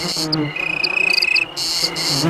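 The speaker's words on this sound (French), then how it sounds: "Et voilà comment les mâles aguichent les femelles chez les grillons. Ça s'appelle la stridulation." A male cricket stridulates loudly and close by in rapid trilling pulses, with a steady high buzzing between bursts.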